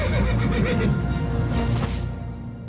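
A horse in the game Dark Parables lets out a loud, drawn-out neigh close by, a shrill whinny with hoof clatter beneath it that trails off toward the end.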